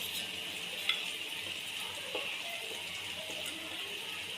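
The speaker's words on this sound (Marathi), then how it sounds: "आता हे मसाला पूर्ण तेलामध्ये आपण छान परतून घ्यायचा" Pav bhaji masala sautéing in softened ghee in a pan for street-style pav bhaji, a steady soft sizzle with a faint clink near the start, quiet and continuous with no voices.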